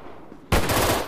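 A burst of AKM sniper rifle fire in an offline FPS mobile game, opening with a sudden loud crack after a quiet start and sustained by dense rapid shots for the remaining half second.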